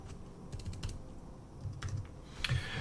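Quick bursts of keystrokes on a computer keyboard, close and fairly quiet, with short pauses between runs of typing.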